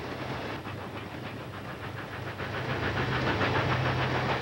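The Tweetsie narrow-gauge train crosses the Valley Forge Bridge, with a continuous rumbling, rhythmic roll of wheels and engine, steady and moderately loud throughout.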